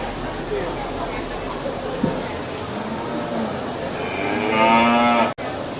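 Cattle at a steer show lowing: a long, loud moo swells near the end, over steady crowd murmur and a voice speaking in the arena.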